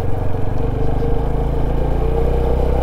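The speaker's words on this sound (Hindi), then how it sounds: "इसके ऊपर से बाइक थोड़ी स्पीड से निकालते हैं" A motorcycle engine runs steadily with clattering as the bike rides at speed through a glacial meltwater stream, loud and continuous with no talk.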